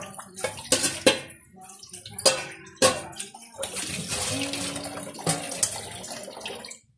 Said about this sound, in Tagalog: Iluglugan ko lang po yung takip